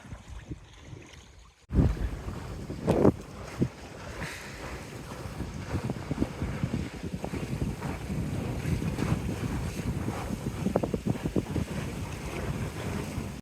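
A sailboat leaving Smuggler's Cove off Texada Island heads upwind, wind buffeting the microphone and water rushing and slapping against the hull in a continuous, gusty wash after a brief quiet start.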